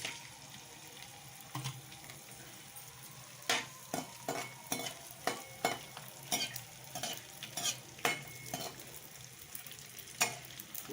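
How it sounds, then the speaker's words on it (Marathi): Edible gum fried in ghee a little at a time over a low-to-medium flame gives a quiet run of irregular crackles and sharp pops, clustering and growing busier partway through. "आता आपण हा डिंक तळून घेऊ। थोडा थोडा करूनच तळायचा।"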